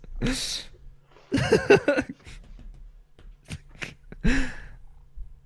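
A cat meows several times close to the microphone, in short loud bursts separated by quieter gaps, with faint background noise between the calls.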